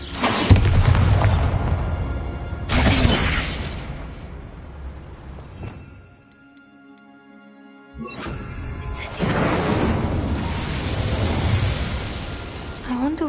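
A Bombarda spell blast in Hogwarts Legacy, a loud booming burst near the start followed by another crash, then a short lull with faint hum before more rumbling game noise returns.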